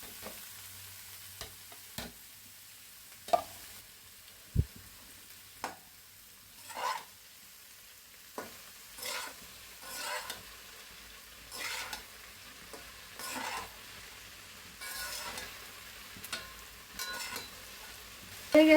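Malabar spinach with its stems and potato is stir-fried with fried dry chili, garlic and onion in a pan, with a soft sizzle under repeated spatula scrapes and stirring strokes arriving in irregular bursts.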